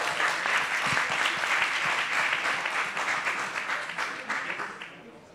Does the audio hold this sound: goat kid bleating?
no